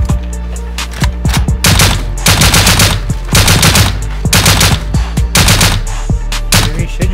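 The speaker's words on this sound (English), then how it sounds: "I'm gonna shoot down the build-up." Rapid automatic rifle fire in the survival game Rust aimed at a base build-up, loud repeated bursts with brief pauses between them, close and dominant throughout.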